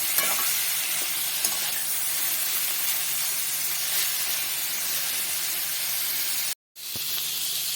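Potato peels frying with salt and turmeric in a pan, stirred, make a steady, close sizzle with hiss and steam and scraping stir noises throughout, broken by a brief silence near the end.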